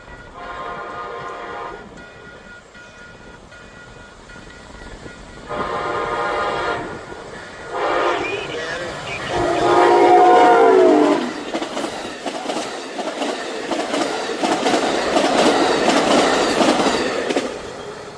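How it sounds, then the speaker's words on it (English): A northbound Amtrak Saluki train nears a rural grade crossing near Etna, Illinois, sounding several loud, drawn-out horn blasts that grow closer, followed by the rushing roar and rattle of the passing cars. "I knew the northbound Amtrak Saluki was getting closer by the second"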